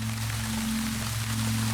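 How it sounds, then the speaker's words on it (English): Steady rain hiss from the Distance racing game's menu screen, loud and continuous throughout, with a low ambient music drone underneath. "the rain is really loud"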